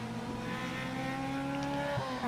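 Hot hatch race cars, including a Honda, circulate at Silverstone, with continuous loud engine drone and harmonic whine as several cars run past close by and one rises in pitch near the end.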